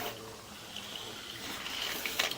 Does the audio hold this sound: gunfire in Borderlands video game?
no